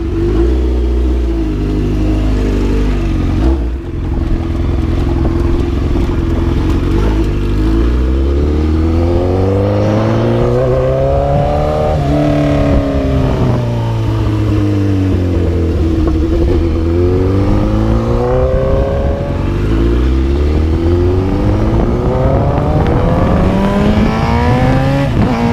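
A Kawasaki ZX-10 motorcycle engine revs hard and sustained, its pitch climbing and falling in repeated sweeps, loud and close throughout with no talking.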